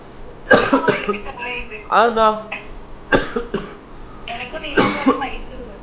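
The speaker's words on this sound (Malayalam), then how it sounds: "അങ്ങനെ ചുമ" Several harsh coughs and throat-clearing sounds in separate bursts, mixed with a voice, close to the listener.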